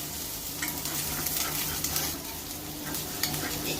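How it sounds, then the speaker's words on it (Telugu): Country chicken and tomato fry in a pan for a village-style natukodi curry, giving a loud, continuous, close sizzle laced with crackles and stirring scrapes, with no voices. "ఇదంతా వేగిన తర్వాత టమాటా అప్పుడు చికెన్ వేసుకోవాలి. కొంచెం వేగాలండి."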